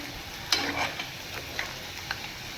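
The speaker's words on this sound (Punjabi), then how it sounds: "ਤੇ ਉਹ ਵੀ ਨਾਲ ਆਲੂ ਵੀ ਫਰਾਈ ਕਰਾਂਗੇ" Bitter gourds and potatoes frying in oil, a quiet steady sizzle with a few soft pops and stirring clicks scattered through it.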